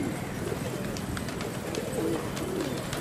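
Pigeons coo in a loft, with soft repeated calls over a steady, noisy background hum. No one speaks.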